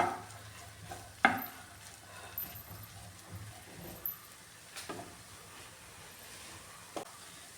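Beaten egg seasoned with black pepper poured into a pan of okra for a Kerala-style vendakka egg thoran, giving a soft, steady sizzle with occasional sharp clinks of a utensil against the pan, no voices.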